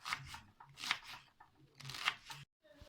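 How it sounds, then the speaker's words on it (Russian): A knife chops a large onion into cubes on a board, several quick crisp cuts in short bursts with brief pauses, close and fairly quiet. "Режем такими кубиками большую луковицу, ну или же две средние."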